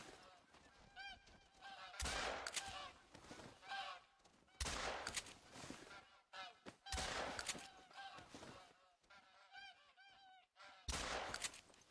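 A goose in a video game honks in repeated loud bursts, the harsh calls coming in clusters with brief gaps between them, with no one talking over it.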